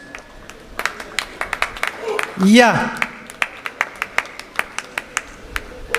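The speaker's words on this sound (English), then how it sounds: "Give him a big round of applause." Audience clapping at a chess tournament prize distribution, scattered sharp claps ringing out through a hall, with a brief voice cutting in partway through.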